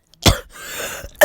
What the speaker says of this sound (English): Kakashi would cough up some blood as he lay on the floor